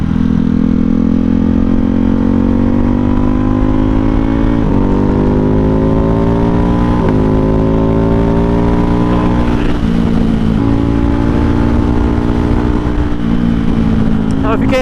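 A Ducati Hypermotard motorcycle fitted with an Ohlins steering damper rides on the road, its engine droning loud and close with rising pitch sweeps through several gear changes.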